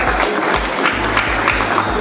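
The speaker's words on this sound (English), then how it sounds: "Please give yourself a round of applause." Audience applause at a Miss Tourism Nigeria pageant, a steady broadband wash of clapping with a low rhythmic hum pulsing underneath, sustained throughout.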